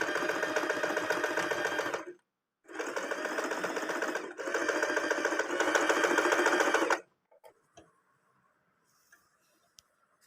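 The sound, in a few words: Usha sewing machine stitching zigzag embroidery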